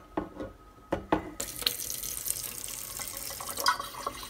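Water from a drinking-water filtration faucet in a home kitchen, starting with a few clicks and splashes before a steady, close rush of flow runs on with small spattering accents.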